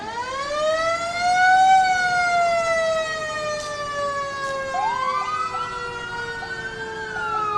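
Fire truck sirens wail at an outdoor holiday parade, several overlapping tones rising and falling steadily and loudly, with a second siren sweeping in near the end.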